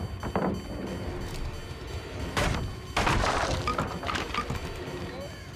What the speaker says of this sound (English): Yeah, I destroyed that pallet pretty fast, huh?